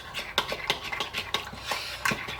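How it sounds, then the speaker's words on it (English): A whisk clinks rapidly against a bowl while beating sour cream, cream and flour into a smooth mixture, with sharp metallic taps coming in an uneven, brisk rhythm close up. "we want to whisk to get it smoothed in there good"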